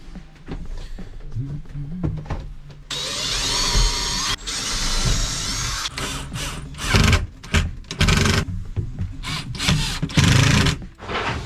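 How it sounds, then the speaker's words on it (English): A power drill bores a pilot hole into plywood cladding inside a Sprinter van conversion, giving one sustained loud whirring burst followed by several shorter spurts, with clatter and a voice around it. "I'm just going to drill a pilot hole with the drill and screw some 30mm screws"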